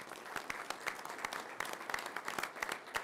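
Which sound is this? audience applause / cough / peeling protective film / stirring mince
audience applause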